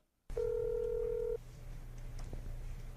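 A telephone beep on an unanswered call: one steady electronic tone lasting about a second, followed by a faint low hum of the open line.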